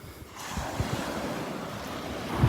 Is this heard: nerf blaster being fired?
no